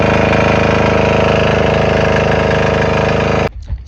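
A cheap Amazon diesel engine runs loud and steady with a dense, even idle chug, then cuts out abruptly near the end.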